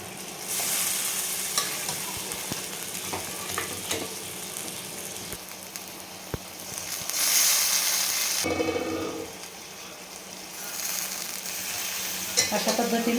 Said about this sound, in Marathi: मटणचे पीस टाकून आणि आता छान मिक्स करून द्यायचे आपल्याला